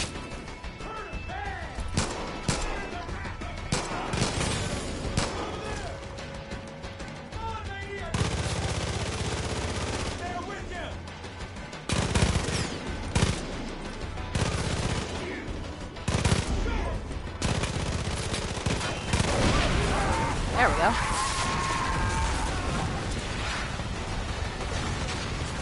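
Sustained bursts of gunfire in a Far Cry 5 fight in Hope County, loud and dense with rapid shots and crashing impacts across the whole stretch, only brief quieter gaps between volleys.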